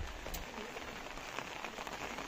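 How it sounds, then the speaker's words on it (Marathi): Steady rain falls on a Konkan farm in the mango orchard season, a continuous close hiss of drops on surfaces with occasional sharper splashes, holding an even level throughout with no voices. "आता पाऊस थोडा कमी झालेला आहे"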